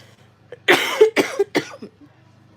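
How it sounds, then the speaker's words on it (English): A few harsh, raspy coughs in quick succession, close up, with silence around them. "Oh my god, this cough's still here."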